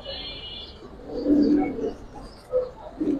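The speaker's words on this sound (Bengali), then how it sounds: "ওটার ডাকও কিন্তু মাশাআল্লাহ অনেক সুন্দর।" Pigeons coo in low, soft bursts at close range, with a few brief calls among other birds. The pigeons are giribaz and pangkhi breeds, kept for sale.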